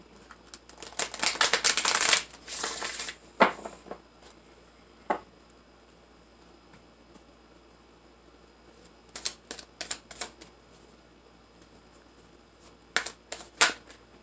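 Tarot cards are shuffled in a fast, dense riffle burst near the start, followed by scattered sharp snaps and flicks of individual cards spread across the rest, close up with quiet gaps between.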